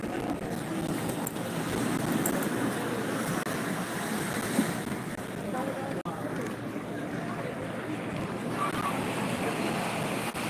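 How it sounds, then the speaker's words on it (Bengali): Sea surf rolls steadily onto Digha beach at night, a low continuous wash mixed with wind buffeting the microphone, while people talk nearby over it. "সমুদ্র দেখো ভালো লাগছে দারুণ লাগছে"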